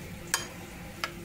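A spoon stirs a tofu sisig mixture in a bowl, two brief scraping clicks against a quiet background with no talking.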